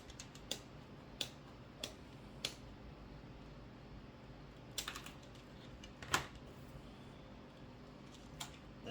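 Burlap leaves for a cornucopia craft trimmed with scissors: faint, sparse sharp snips at irregular intervals in a quiet room, a couple of them slightly louder, with no talk.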